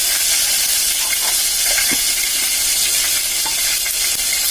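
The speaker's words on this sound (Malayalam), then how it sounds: "എണ്ണ നല്ല ചൂടായതിനു ശേഷം നമ്മൾ ഇതിലേക്ക് അല്പം കടുക് ഇട്ട് കൊടുക്കാം." Mustard seeds dropped into hot oil in a pan, giving a loud continuous sizzle and hiss with scattered small pops and crackles throughout, close up and with no voices.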